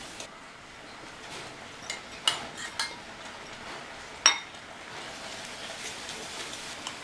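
A spoon stirs chana dal in a pan for a Diwali ukkarai sweet, giving several sharp metallic clinks and scrapes over a faint, steady hiss, with no talking.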